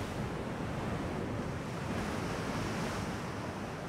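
Broad, steady roar of open-sea waves and wind in the Ultimate Admiral Dreadnoughts naval battle game during a rough sea state, a continuous loud wash with no talk.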